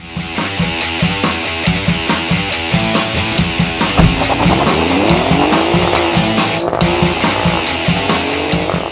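An Alfa Romeo Giulia Quadrifoglio is driven hard, its engine roaring loud and close with rapid revving and gear changes while the tires squeal through a long skid partway through.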